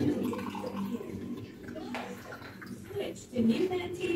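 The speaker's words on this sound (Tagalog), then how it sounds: "Siyempre, lalagyan natin ng tubig." Tap water splashes into a container to mix a simple juice, a gurgling pour heard in short bursts while a person talks over it.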